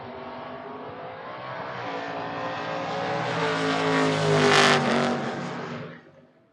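A Malibu and a Mustang drag race. One loud engine note climbs steadily in pitch as it pulls away, peaks near the end and then cuts off. No talk is heard over it.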